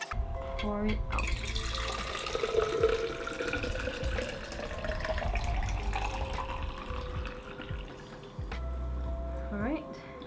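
Steady rush of liquid poured out of a film developing tank, splashing for several seconds, with a voice speaking briefly at the start and end.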